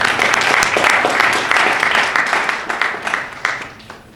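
Applause from guests at a fundraiser dinner, a loud, full burst of clapping that gradually thins into scattered individual claps as it winds down.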